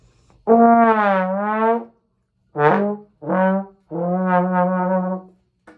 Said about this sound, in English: it can slide because it has a slide, and that sounds like this.